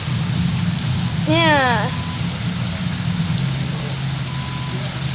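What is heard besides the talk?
heavy rain pouring outside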